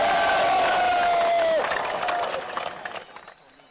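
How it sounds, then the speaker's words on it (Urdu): A large crowd at an Imran Khan political rally in Bhimber, Azad Kashmir, cheers and applauds in a loud, dense roar that gradually fades away. "ذرا ہاتھ اٹھا کر تالیوں کی گونج میں یہ بتائیے کہ آپ عمران خان سے کتنا پیار کرتے ہیں"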